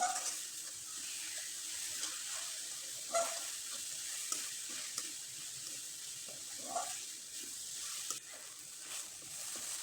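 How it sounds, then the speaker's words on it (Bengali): Palm pitha filling fries quietly in a pan over low heat, a faint steady sizzle with occasional soft stirring scrapes, no talking. "আর এই পুরটা একটু হালকা আঁচে ভেজে নিতে হবে"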